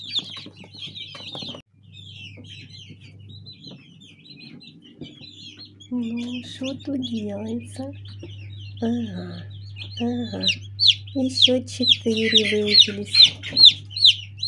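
Newly hatched chicks peep loudly and continuously inside a plastic mechanical incubator on the 21st day of incubation, shrill high calls rising and crowding together toward the end, with a steady motor hum underneath and someone speaking briefly.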